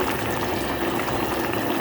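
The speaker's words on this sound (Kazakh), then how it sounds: "Енді осыны баклажанның үстіне құямыз." A blended tomato mixture is poured over eggplant simmering in a pot in a home kitchen, giving a steady, dense liquid rush and bubbling hiss throughout, close and fairly loud.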